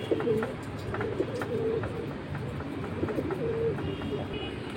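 Pigeons kept for sale, including high-flying feathered breeds, coo continuously near the listener, with layered, throaty calls repeating over a low murmur of background voices.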